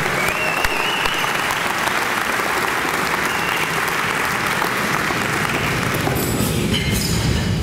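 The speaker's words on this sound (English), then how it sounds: "It also would be helpful for us to give a round of applause for all the staff" Sustained applause from a seated dinner audience fills the room, steady and dense throughout with no speech over it.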